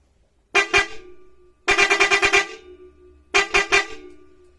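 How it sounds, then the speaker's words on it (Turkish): A restored antique car horn, about 60 to 70 years old, honks in three bursts: one short blast, then a rapid series of toots, then a few more short honks, loud and close. "Malum kornalarımız takriben 60-70 yıllıktır"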